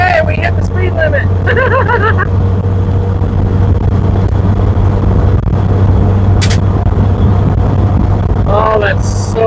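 Road noise and a steady low engine drone from a 1981 Jeep CJ7 driving at speed, loud and constant, with voices briefly talking over it.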